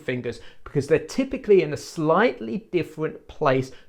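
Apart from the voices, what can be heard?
None of the usual background noises is heard.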